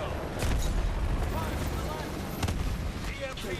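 Gunfire and booming blasts in Call of Duty: Advanced Warfare, a dense volley of shots and heavy explosive thumps under steady battlefield noise, with voices talking over the action.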